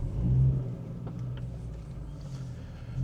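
Interior of a moving car, a steady low engine and road rumble that swells briefly at the start, then settles into an even drone without speech.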